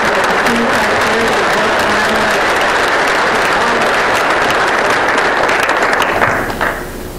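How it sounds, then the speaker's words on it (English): Loud, dense audience applause at an annual meeting, a sustained wash of many hands clapping close by, holding steady for several seconds before easing off at the end. "Give a round of applause to all of us who generously volunteer time and energy for the"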